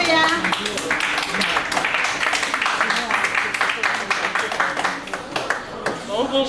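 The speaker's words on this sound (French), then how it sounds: "On applaudit Béa." Audience at a company event applauds a speaker named Béa taking the stage, dense broadband clapping with scattered sharp individual claps, fairly steady and loud throughout, with some voices mixed in.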